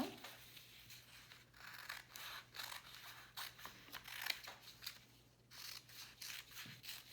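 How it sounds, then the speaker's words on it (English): Scissors snipping strips into a paper bag, a close, quiet series of short crisp cuts and rustles in an irregular rhythm with no talking. "So I'm actually cutting both sides as I'm cutting through."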